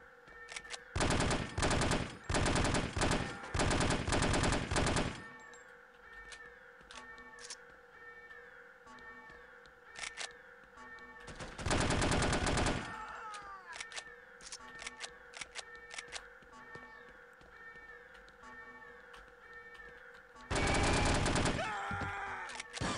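Rapid automatic gunfire in the spy shooter game No One Lives Forever rattles out in loud, dense bursts, a long string at the start and two shorter volleys later, with quieter game ambience and clicks in between.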